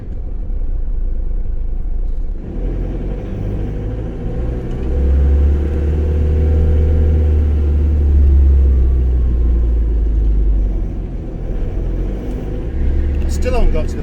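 A truck rumbles past on the road, its low engine roar swelling loud in the middle and then fading, heard from inside a moving car.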